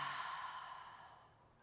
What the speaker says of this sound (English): and exhale, side out.